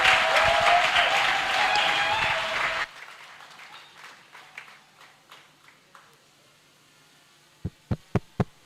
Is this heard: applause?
yes